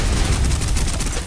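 Suppressive gunfire in the shooter game Snowbreak, a continuous rapid stream of loud automatic shots blurring into one dense, roaring burst.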